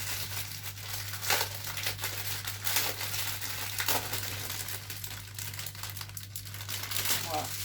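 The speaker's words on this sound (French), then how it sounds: "Je n'ai pas pensé à ouvrir les diamants avant pour que ça fasse pas trop de bruit pour vous." Crinkly plastic packets of diamond-painting diamonds are torn open and handled, a steady rustling and crackling broken by louder crisp bursts, under a constant low hum.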